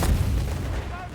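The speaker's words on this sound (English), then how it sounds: "This heavy mortar with the, not regular mortar, but the delayed fuse barrage is absolutely wreaking havoc on Momo and the German army." Heavy mortar delayed-fuse barrage in Company of Heroes 3 pounding a North African desert battlefield, a dense rumble of low booms rolling on without a break, with a voice speaking over it.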